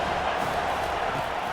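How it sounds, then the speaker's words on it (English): Steady stadium crowd roar from a college football video game, a dense continuous wash of many voices rising to make noise before a third-down play, with commentary talk over it. "This crowd trying to make life miserable for this offense."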